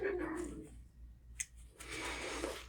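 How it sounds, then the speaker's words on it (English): A neighbor's dog barks outdoors in short, faint, distant yips and woofs. The sound is brief and sits low beneath the background noise. "So now you always hear dog barking in my videos now."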